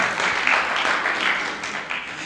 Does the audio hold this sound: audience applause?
yes